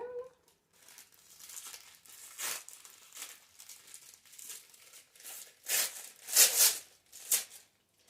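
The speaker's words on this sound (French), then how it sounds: "Ouais, je déchire maintenant." Gift wrapping on a knitting yarn package being torn and crumpled open, a run of close, crinkly tearing bursts that grow louder toward the end, with no talk over them.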